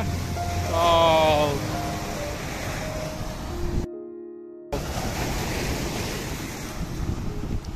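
Ocean surf at University Beach in Pondicherry, a broad, steady wash of waves with wind buffeting the microphone throughout, plus a brief tonal chirp early on and a short dropout partway through.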